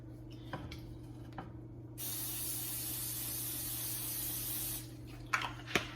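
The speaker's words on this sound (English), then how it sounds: "I'm going to spray this skillet" Cooking spray hissing onto a skillet in a home kitchen, a single steady burst of about three seconds, close and clear, framed by a few faint clicks and knocks.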